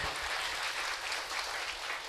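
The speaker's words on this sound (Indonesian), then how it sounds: "Tepuk tangan untuk umat Buddha di sini." An audience at a Buddhist Dhamma sermon breaks into a steady round of applause, dense clapping from many hands filling the room at moderate volume throughout.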